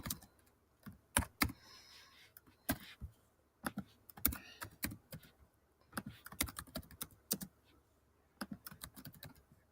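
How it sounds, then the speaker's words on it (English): Fingers type a quiz question on a computer keyboard, irregular bursts of crisp, close key clicks separated by short pauses. "Type in my question."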